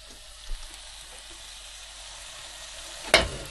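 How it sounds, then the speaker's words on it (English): A beef Denver steak fries in a pan, its low soft sizzle running steadily with a couple of brief louder clatters near the start and end. "frying the steak"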